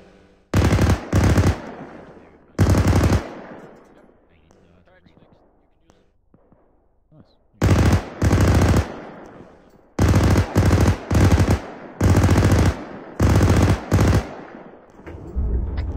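Video-game firefight in Arma 3 during an insurgency battle in Zargabad: loud, close bursts of automatic gunfire in several sharp clusters, with quieter gaps of distant shots and faint voices.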